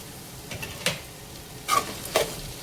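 A spatula stirs boiled Hakka noodles with spring onions in a hot pan, giving a few scraping strokes over a soft, steady sizzle.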